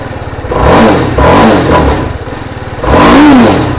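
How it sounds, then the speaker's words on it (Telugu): A BMW motorcycle engine, left standing for many days, fires up and revs in close, loud bursts, with two strong throttle blips separated by a rougher idle and clattering mechanical noise. "బండి స్టార్ట్ అవుతుందో అవదో చూస్తాము"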